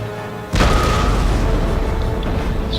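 A sudden loud boom of musket and artillery fire in the video game Empire Total War, then a sustained rumbling roar of battle that stays heavy and dense.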